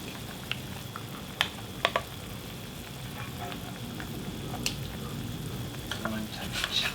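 Canned tuna stir-fried in a pot for kimchi stew: a continuous soft sizzle with scattered scraping and clicking of a utensil against the pot, plus a few sharper knocks.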